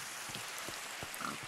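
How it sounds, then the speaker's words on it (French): Steady rain in Minecraft, a soft, even hiss of falling drops with a few faint low thuds, quiet and continuous with no voices. "Il pleut. Je vais aller pêcher comme il pleut."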